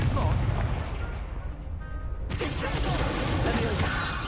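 Incendio fire spell cast in the video game Hogwarts Legacy, a loud whooshing, crackling burst with booming impacts, a brief lull, then a second sharp blast and sustained roar.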